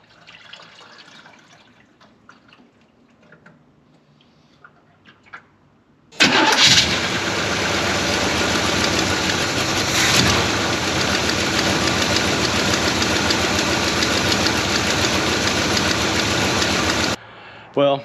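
A 1973 Chevy Nova engine fires up for the first time in ten years after a quiet stretch, then settles into a loud, steady idle that runs for about eleven seconds before shutting off abruptly.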